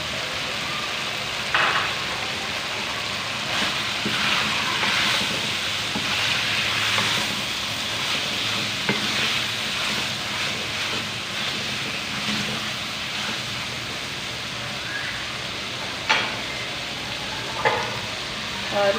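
Spices and tomatoes fry in a pan for aloo salan, a potato and green onion curry, with a steady loud sizzle, stirring scrapes and occasional utensil clinks throughout.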